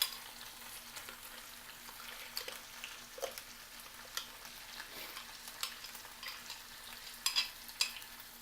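Ground dry-roasted masala stirred into a pan for chicken chops with gravy, giving a faint, quiet sizzle broken by repeated stirring scrapes and clicks, with no voices.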